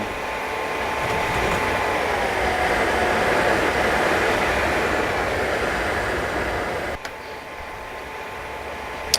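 A German train rumbling along in the game Train Simulator 2014 gives a loud, steady rolling drone with a faint hum, then a sudden click and a drop in level, and another click near the end.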